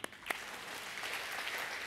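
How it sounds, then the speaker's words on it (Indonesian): Brief applause from a church congregation at an evening mission service, a soft, fairly distant patter of clapping lasting under two seconds. "Tepuk tangan dulu."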